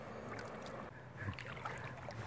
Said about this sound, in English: Hook up my battery. My little engine here.